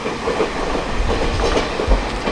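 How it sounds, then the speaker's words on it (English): A train rolls through Houtong station in Taiwan, with steady low rumble and rhythmic clickety-clack of wheels on rail, loud and close throughout with no talking. "As another train is passing through"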